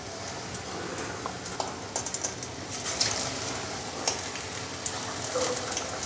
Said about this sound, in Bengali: আমি মাছটা দিয়েছি, তেল গরম হয়ে গেছে, এবার মাছে ছেড়ে দেবো তেলে।